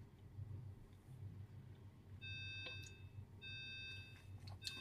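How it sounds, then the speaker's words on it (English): A fridge door-open alarm beeps in two runs of repeated high electronic tones in a kitchen, over a low background hum, with no talking. "That's my fridge beeping at me."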